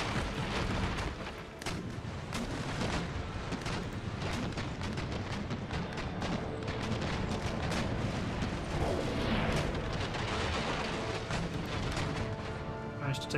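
Warship cannon fire in Empire Total War, with broadsides booming in rapid, overlapping bursts against a roaring battle din for over ten seconds, while someone talks over it.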